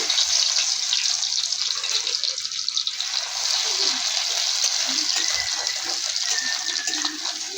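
Cumin seeds and onion sizzling in hot oil in a pan, a steady bright hiss and crackle that runs evenly throughout with no talk over it.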